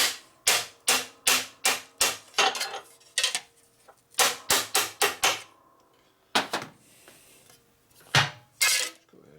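A flattening tool hammers a bent metal part on a custom chopper bobber motorcycle: sharp metallic taps in quick bursts of five or six, with pauses between groups, close and clear without talk.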